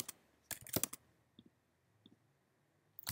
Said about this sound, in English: So I'm gonna type in Alexandria.